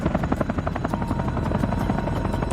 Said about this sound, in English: The Chinook has already been in service with the RAF for 50 years and will probably serve another 50.